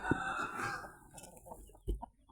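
Chickens clucking nearby, a short run of soft clucks followed by a sharper cluck, with faint background noise.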